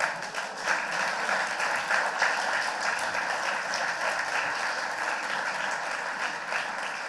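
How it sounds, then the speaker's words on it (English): An audience at a conference talk about Code Sandbox keeps applauding, a continuous, fairly distant wash of many hands clapping for about seven seconds at even loudness, with no voices. "keep clapping, keep clapping"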